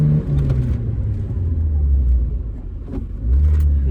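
Vauxhall/Opel car at a show course, engine droning loudly then easing off under heavy braking before the revs swell again near the end, with no voices.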